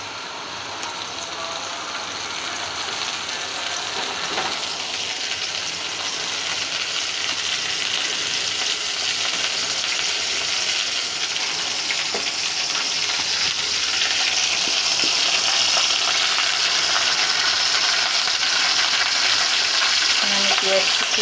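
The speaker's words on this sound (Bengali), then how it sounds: "কড়াইতে আমি সাদা তেল দিয়ে দিচ্ছি, রান্নার সয়াবিন তেল।" Soybean oil sizzles and crackles in a hot wok, a steady close frying hiss that swells slightly louder over time, with faint stirring scrapes and no talking.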